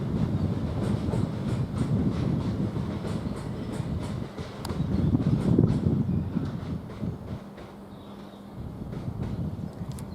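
A Class 375 electric train, unit 375611, rumbles through Ramsgate station with a steady rolling roar and rhythmic wheel clatter, loud and near, easing into a quieter hum near the end.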